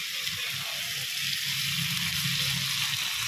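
Gobindobhog rice and a katla fish head frying together in a pan for muri ghonto, giving a steady, close hiss of sizzling oil over a soft low rumble, with no voices.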